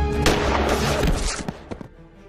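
A sniper rifle fires a single headshot in a film scene: one sharp, heavy report that decays into a rumbling tail, followed by a few scattered dull thumps fading toward quiet.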